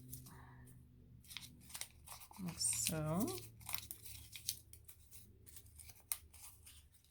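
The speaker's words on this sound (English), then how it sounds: "I'm going to go ahead and crumple it up." Paper is crumpled by hand for a DIY primitive firecracker decoration, a short crinkling burst close to the mic while a person talks.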